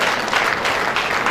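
An audience applauds at an event in a brief, dense burst of clapping that stays steady throughout.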